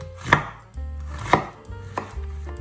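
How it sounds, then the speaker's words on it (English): Onion being finely chopped with a knife on a cutting board, three distinct knife strikes spaced about a second apart, close and clear with quiet gaps between. "Finely chopped onion."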